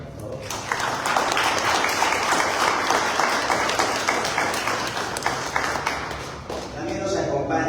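Audience applause at a talk on chronicle writing, a loud, dense burst of clapping that rises quickly, holds for several seconds, then thins slightly at the end.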